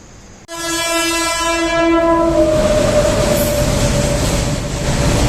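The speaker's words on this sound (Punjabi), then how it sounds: "ਇਹਦਾ ਕੋਲਾ ਟ੍ਰੇਨ ਹੈ ਕੋਲਾ" A loud train horn blares for about two seconds, then a heavy coal freight train roars past close by in a continuous rumbling rush.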